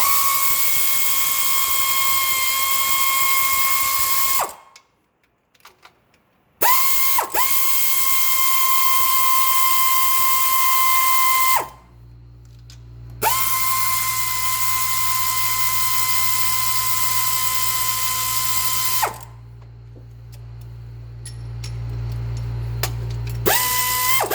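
A high-pitched power tool whines loudly in long steady bursts removing bolts during a 5.0 engine swap, stopping and restarting several times with short silent gaps between runs.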